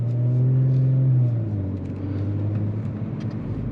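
Turbocharged car engine running steadily close by, a deep droning hum with a strong low tone that eases slightly after a second and then holds an even, rumbling note with no talk over it.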